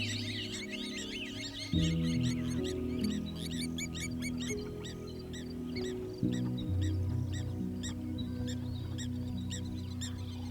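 Ducks and other water birds calling at a marsh flooded to its highest level in years, a dense chorus of quacks and chirps over a steady low hum, no talking.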